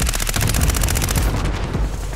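Fast automatic bursts from the ISO SMG in Modern Warfare rattle out loud and close, a steady rapid stream of shots that tails off after about a second.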